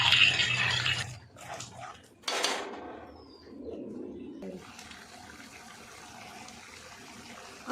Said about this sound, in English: add little bit of water and stir it again and again